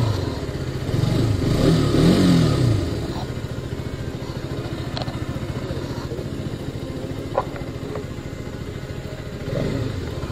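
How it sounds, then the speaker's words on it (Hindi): A 2021 KTM RC 200 motorcycle revs near the microphone, its single-cylinder exhaust note rising in a couple of loud throttle blips before settling to a steady, clattery idle. "और एग्जॉस्ट नोट"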